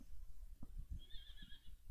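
A horse whinnies at a show jumping competition: one shrill, wavering neigh of moderate loudness rises over the arena's low background rumble and lasts under a second.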